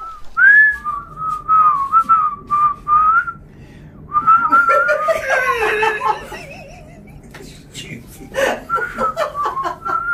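People whistle in imitation of a hotel lift's high, wavering tone, the whistles repeating close by between bursts of laughter and chuckling.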